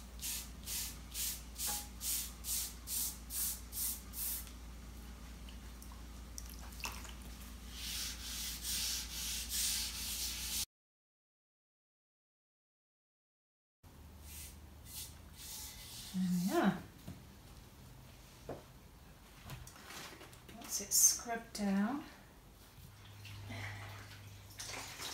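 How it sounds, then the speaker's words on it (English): A plaster-cast clay damp-box container is scrubbed with water and an ordinary domestic scrubber, giving rhythmic rasping strokes that start as steady back-and-forth rubbing, break off briefly, then return as looser scrubbing and splashing. "Some water and I'm going to scrub it down."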